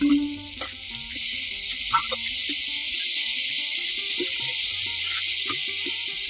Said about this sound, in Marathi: ही जी भाजी आहे ही आपल्याला या फोडणीत छान परतायची आहे